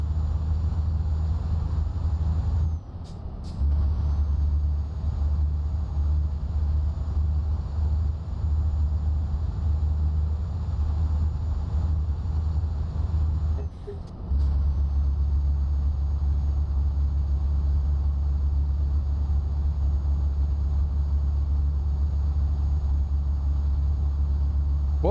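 Simulated truck engine from Euro Truck Simulator 2, a constant heavy low drone with a steady high whine above it, loud and continuous, with two short dips around a few seconds in and midway through.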